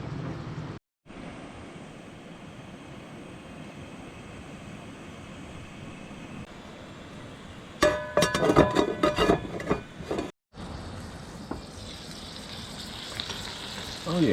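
Sausage and butter gravy sizzles steadily in a pan on a camp stove in a national forest campsite. The soft, even frying hiss is briefly cut by a louder crackling burst, with no talking.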